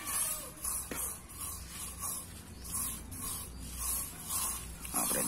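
Cleaner sprayed onto a nearly five-year-old motorcycle during washing, a run of short hissing spray bursts in an even rhythm, close to the listener.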